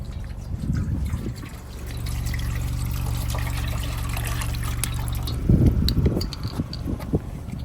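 Water pours and trickles steadily into a container for a Cane Corso puppy nearby, with a brief burst of splashing partway through.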